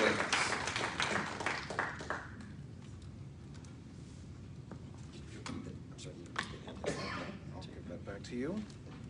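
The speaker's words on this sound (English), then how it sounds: "Would you give him a round of applause as we welcome him to the family?" A church congregation applauds to welcome a guest reverend, a brisk burst of clapping at the start that fades within a couple of seconds into room murmur and a speaking voice.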